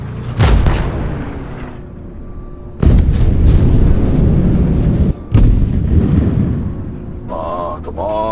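A tank cannon fires in a Roblox tank simulator game, T-64K tank: loud booming blasts with long rumbling tails, three shots spaced a few seconds apart, under voices talking.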